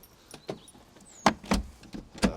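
A manual window winder turns in a Mercedes W124 door, giving a series of close, sharp mechanical clicks and clunks at an uneven pace.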